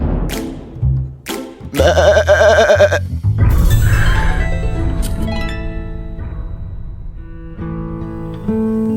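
A goat bleats in an animated Filipino fantasy tale: loud, wavering, nasal calls repeated several times in close succession over a tonal musical background, with no talking.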